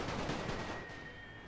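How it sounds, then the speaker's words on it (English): Distant rifle and machine-gun fire from infantry advancing in a World War I strategy game, a dense crackling rattle of rapid shots that fades slightly toward the end, with no talking. "These guys are advancing,"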